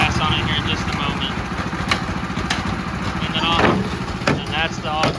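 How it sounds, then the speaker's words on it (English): Auger rig drilling and belling out bell-bottom foundation piers, a steady loud engine drone with grinding and clanking from the beller and bit in the soil, continuous throughout. "That's what it looks like when we're actually drilling and belling out some piers."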